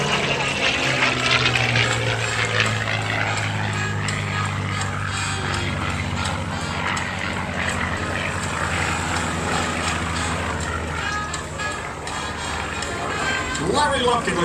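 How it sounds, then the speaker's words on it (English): North American P-51 Mustang propeller aircraft at an airshow, its engine roaring at a distance and swelling and fading as it flies a loop, heard under an announcer's commentary. "the North American P-51 Mustang"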